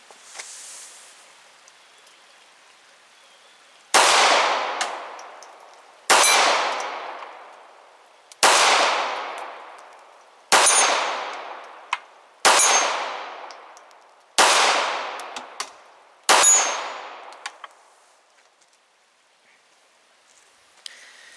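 Seven pistol shots from a Sig P238 .380 ring out outdoors at 25 to 28 yards from an 8-inch steel gong, each a sharp crack followed by a ringing metallic decay, spaced about two seconds apart.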